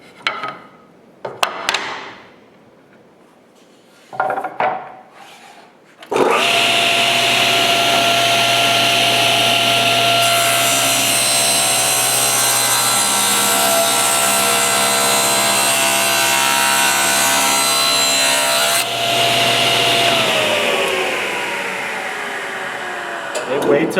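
A table saw cuts a board after a few brief knocks and voices, its motor roaring loud and steady for about twelve seconds before winding down with a falling whine.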